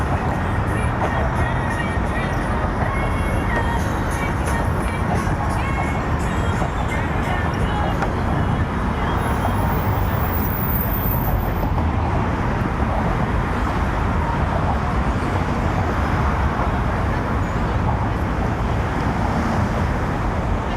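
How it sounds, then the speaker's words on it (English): Steady traffic roar on the Brooklyn Bridge in New York City, captured binaurally as a continuous broadband wash with wind buffeting, loud and unbroken throughout. "which gives binaural sound, which at the moment is just a lot of traffic noise"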